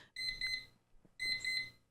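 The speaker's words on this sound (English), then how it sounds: "I can't even turn it off. I just gotta let it beep." An alarm clock beeps in two loud bursts of rapid, high-pitched tones separated by a short pause, sounding nearby with no talk over it.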